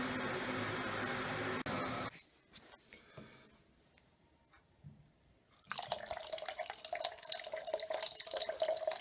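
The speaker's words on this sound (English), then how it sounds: "Collecting 7 litres of water at 75 degrees. Just to go into the mash down below." A tap runs hot water at 75 degrees into a vessel to fill mash liquor for home brewing, a strong rushing flow that cuts off, leaves a quieter gurgling stretch, then comes back splashing loudly.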